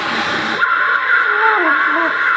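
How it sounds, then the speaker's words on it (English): Trumpet played by a beginner, a loud close buzzy blat sliding and wavering in pitch, shaky and unsteady over about two seconds, with no talking. "When I play trumpet, it sounds like this."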